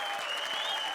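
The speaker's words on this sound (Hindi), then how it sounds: "धमाकेदार तालियों से स्वागत कीजिए हम सब की प्यारी इच्छा" Studio audience applause on a comedy show stage, a dense steady wash of clapping that holds at an even level throughout the short stretch, with no voices standing out.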